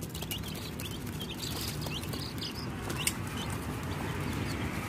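Chickens and small chicks cluck and cheep in scattered bursts, close by and moderately loud, over a steady outdoor background noise.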